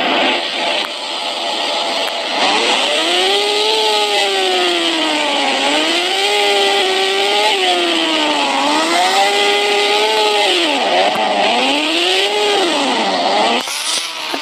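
A motorcycle engine runs close by for the whole stretch, a loud continuous drone whose pitch rises and falls again and again as the throttle is opened and eased off.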